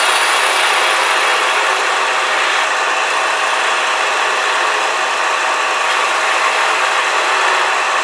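A wood lathe spins a bottle stopper on a screw chuck while a gouge turns it down, giving a steady, loud, close hiss of cutting that runs unbroken throughout with no talking.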